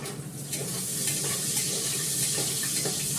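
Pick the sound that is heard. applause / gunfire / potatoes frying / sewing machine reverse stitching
potatoes frying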